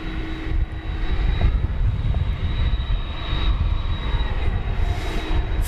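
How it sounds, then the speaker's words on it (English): An MD-11 airliner passes at DFW Airport in the late afternoon, a steady, fairly loud broadband engine roar with a faint high whine, sustained throughout without voices. "Finally, here comes the MD-11 in the late afternoon sun"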